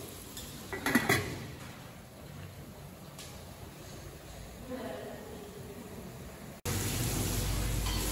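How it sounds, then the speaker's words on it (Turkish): A metal pot lid clanks down over onions sweating on a stovetop, a short bright clatter near the start followed by low simmering hiss and softer kitchen noises, then a louder steady rush at the end. "şimdi ocağın altını kısıyoruz ve kapağını kapatıyoruz"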